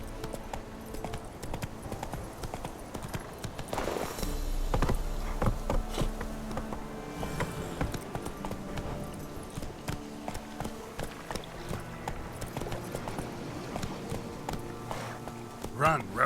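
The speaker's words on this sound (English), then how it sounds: "Run, Roach" Hooves of a horse in The Witcher 3 video game galloping in a steady clip-clop rhythm, mixed under game music, ambient buzzing and brief voice.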